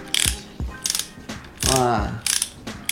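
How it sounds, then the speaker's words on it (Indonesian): An Isku Tools socket ratchet handle clicks in short bursts of rapid pawl clatter, close and crisp, with a few separate ticks and a brief buzzy grind between strokes. "Jadi di ratchet ini kalau kita pakai, jadi dia ada suaranya kayak gini nih."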